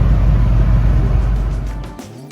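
Land Rover Defender Td5 cruising at highway speed around 75 mph, a steady loud low engine and road drone that eases off near the end.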